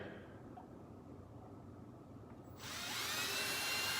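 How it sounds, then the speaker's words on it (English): A cordless drill with a 1/16-inch bit spins up with a rising high-pitched whine after a quiet stretch, then keeps running steadily and loud up close, drilling PVC. "Now, take my cordless drill."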